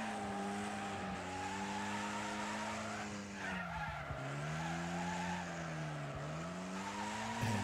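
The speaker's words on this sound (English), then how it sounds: "And drifting some corners." A race car drifting through corners in Wreckfest, with a steady engine drone and long, wavering tire squeals that rise and fall as it slides, loud and close throughout.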